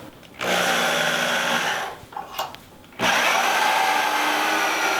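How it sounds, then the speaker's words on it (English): A power drill whirs loud and close in two long bursts while driving 2-inch screws through wooden slats into a queen-size bed frame, separated by a short pause with light handling noises. "I'm going to take some of these 2-inch screws here, and I'm just going to sink one on each side of the slat to keep it in place."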